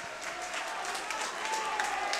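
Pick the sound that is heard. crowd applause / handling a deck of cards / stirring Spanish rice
crowd applause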